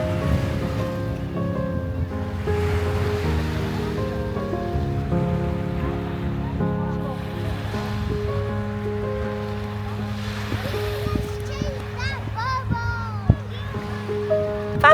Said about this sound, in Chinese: 听到海浪声音了